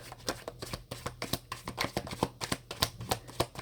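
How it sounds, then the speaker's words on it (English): A tarot card deck being shuffled by hand, with a rapid, continuous series of crisp riffling slaps and flicks close up, no talking. "You watch me shuffle."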